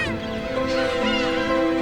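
Black-tailed gull mother and newly hatched chick on a remote island, calling steadily together in a dense, continuous chorus of high, wavering cries, close and fairly loud.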